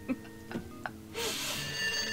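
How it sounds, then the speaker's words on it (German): A telephone starts ringing in the adventure game Sam & Max Hit the Road, a bright, sustained electronic ring that begins partway through after a few soft clicks and knocks, fairly faint overall. "Oh, Telefon."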